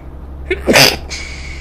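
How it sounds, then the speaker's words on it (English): A single loud, close sneeze in two bursts, a short intake then a sharp explosive release, sounding over a steady background hum from a truck driving game. "I'm going to sneeze in a minute"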